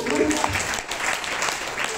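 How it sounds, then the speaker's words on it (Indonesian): A church congregation at a Pentecost service gives a short burst of applause, a brief, fairly steady patter of clapping heard with speech mixed in. "Tepuk tangan bagi aku"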